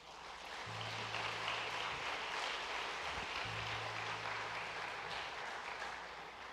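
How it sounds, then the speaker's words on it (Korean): A church congregation applauds to welcome visitors during a Sunday worship service, a steady, soft wash of many hands clapping from across the hall, with a low hum underneath. "잠깐 자리에서 일어나시면 우리 큰 박수로 환영하겠습니다"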